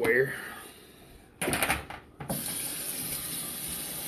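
Cold water runs from a kitchen sink tap, a loud steady hiss that starts abruptly, cuts out briefly, then resumes and flows on; a voice is heard briefly at the start.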